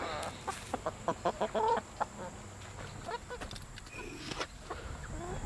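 A flock of chickens clucks around an evening feeding, with short repeated clucks and squawks close by over a soft background and occasional quiet human voices.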